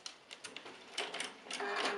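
A sewing machine stitches fabric along a guide in short, quick mechanical bursts, with a steadier whirring run toward the end. The sound is moderately close and plays without talk.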